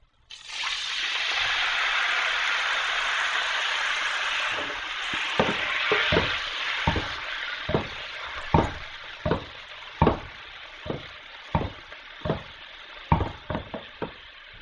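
Salmon frying in a hot pan with teriyaki sauce poured in, a steady loud sizzle that gradually settles into a softer bubbling hiss punctuated by repeated sharp spatters and pops, with no talking.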